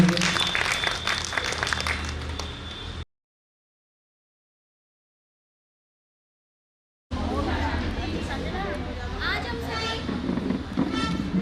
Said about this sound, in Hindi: और सुंदर ज्योति बहन के लिए और एक बार ताली बजाएंगे।